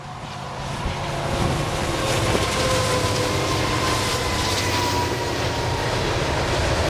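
A train rolls past on one side of Interstate 20 in West Texas, a steady loud rumble with faint rail clatter and a high whine holding throughout, close and continuous with no talk.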